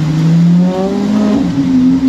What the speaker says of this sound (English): you see this exhaust system?